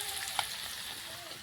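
Fish sizzles steadily in hot oil in a pan while traditional Assamese food is cooked for Bhogali Bihu, a continuous close hiss with one brief sharp crackle.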